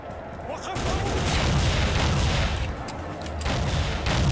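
Sustained submachine-gun fire from the video game Soldier of Fortune: Platinum Edition, a dense, loud continuous burst with short breaks, layered with explosive booms and impacts.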